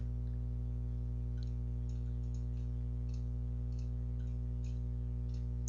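Soft computer mouse clicks while working in CATIA V5 assembly software, a scattered series of light ticks, some doubled, over a steady electrical hum.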